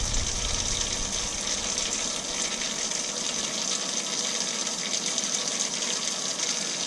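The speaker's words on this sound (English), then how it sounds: "some nice steamy hot water" Hot water gushes steadily from a tap for several seconds, a loud, continuous hissing stream with no talk over it.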